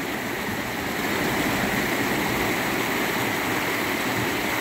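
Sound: river water flowing at the riverbank

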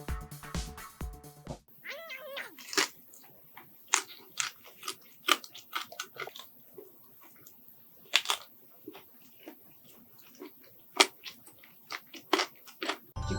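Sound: biting crispy Goobne Namhae garlic fried chicken

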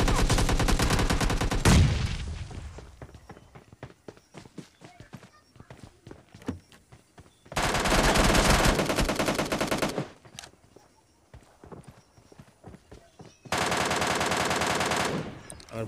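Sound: gunshots in PUBG Mobile Lite video game

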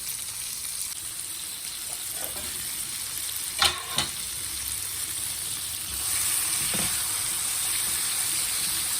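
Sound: ridge gourd pieces cooking on medium flame

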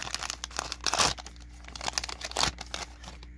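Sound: tearing open Panini Chronicles baseball card packs

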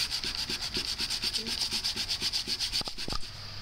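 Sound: sanding PVC flute with fine grade sandpaper

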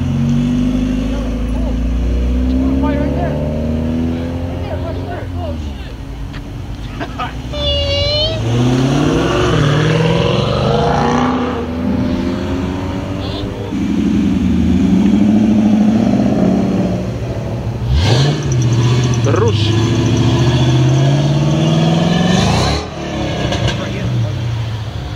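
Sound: Mazda Miata car driving away

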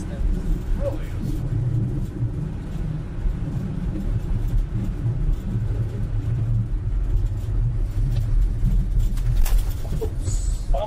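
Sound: sailplane steel skid bumping along runway on landing

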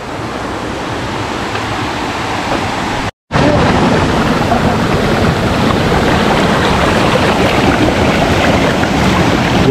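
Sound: water flowing through a channel to a watermill

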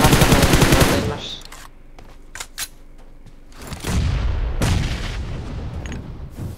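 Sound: gunfire in PUBG Mobile video game

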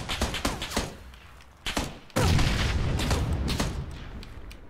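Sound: grenade explosion in video game PUBG

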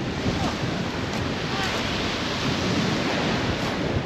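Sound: windy sea waves on Brač, Croatia

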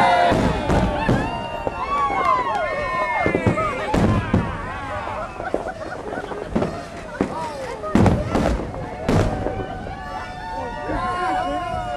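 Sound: New Year's Eve fireworks booming

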